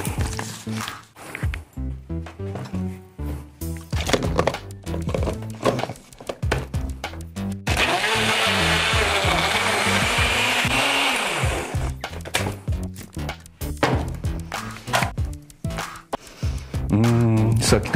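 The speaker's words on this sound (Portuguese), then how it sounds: "E vamos jogar tudo para um liquidificador." A kitchen blender whirs loudly for about four seconds as it purees pineapple pieces with water into juice, with talking and handling noises before and after.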